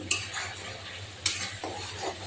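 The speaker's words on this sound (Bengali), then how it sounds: "আর একটু কষানো হবে মশলাটা।" Spice paste for a mutton curry sizzles in oil as it is stir-fried, a soft continuous fry with two sharp utensil clinks against the pan and a few scraping strokes, close and fairly quiet.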